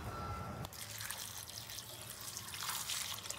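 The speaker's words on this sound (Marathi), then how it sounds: "ह्याच्यामध्ये मी थंड पाणी घालणार आहे" Cold water from the fridge is poured over hot, half-cooked vegetables such as broccoli in a pot, a steady close trickling and splashing that runs unbroken for a few seconds with no talk.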